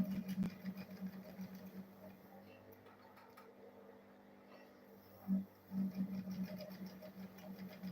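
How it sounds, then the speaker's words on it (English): Sewing machine stitching a small fabric purse, a quiet, steady, fast mechanical whirr with rhythmic ticking that pauses briefly near the middle and then resumes. "then I'll sew it again"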